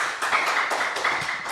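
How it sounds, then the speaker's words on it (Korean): An audience at a church forum claps to welcome a speaker, a short burst of dense, overlapping hand claps in a room. "우리 박수로 맞이하겠습니다."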